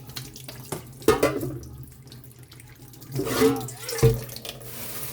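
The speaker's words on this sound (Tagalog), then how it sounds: "Hugasan tayo ng kamay." Running tap water splashes into a sink as hands are washed before handling yellowfin tuna in a home kitchen, a steady near rush with a couple of louder splashes, no talk.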